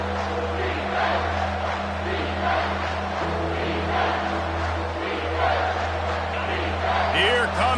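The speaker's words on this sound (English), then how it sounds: "Here comes this home crowd as the defense tries to get off the field on 3rd down" Home crowd at a football game roars steadily as the defense tries to get off the field on third down, a continuous wash of cheering with a commentator talking over it.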